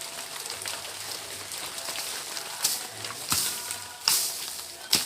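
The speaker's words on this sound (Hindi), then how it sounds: "बरसात भी शुरू हो गई अभी हमारे पेड़ लगाने से पहले ही।" Rain begins to fall in a village, a steady light patter across the whole stretch, broken by a few sharp nearby knocks and thumps that grow more frequent toward the end.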